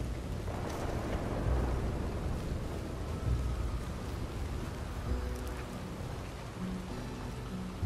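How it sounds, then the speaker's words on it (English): Heavy rain pours steadily in a Red Dead Redemption 2 thunderstorm, with wind roaring through it and low rumbles beneath a constant broadband wash, loud and continuous throughout. "Lightning, wind, rain."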